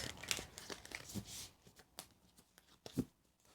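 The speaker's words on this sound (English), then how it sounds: "I'll shuffle again just to get into the energies" Quick papery riffling and soft slaps of oracle cards being shuffled, close and fairly quiet, in a few short bursts with pauses between.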